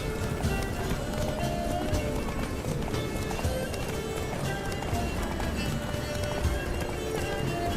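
A horse gallops in The Witcher 3: Blood and Wine, with rapid, continuous clip-clopping hoofbeats that stay steady and close for the whole stretch.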